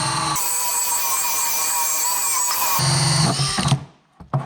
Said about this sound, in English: So when you're drilling something with a hole saw